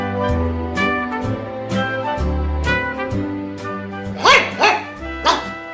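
A dog barks repeatedly indoors, loud and close, with a few sharper, higher yelps toward the end.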